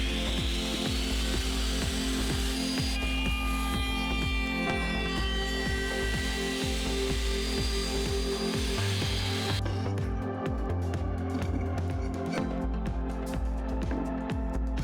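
A woodworking router cuts grooves into wooden strips for a wooden chalkboard calendar, a loud continuous whirring and grinding cut that shifts in tone partway through, heard close with no talk.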